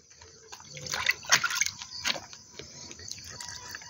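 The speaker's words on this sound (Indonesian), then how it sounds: "kita kocorkan per lubang tanamnya 1 gelas" Liquid NPK fertilizer solution is poured from a glass into cucumber planting holes, a short gush and splash with trickling and dripping, fairly faint and close, followed by quieter dribbles.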